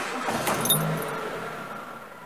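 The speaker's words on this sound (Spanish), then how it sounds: "Yo lo que le he notado es el ralentí un poquito bajo." A Renault car engine idles slightly low with a steady, subdued hum, and a brief jangle of keys sounds near the start.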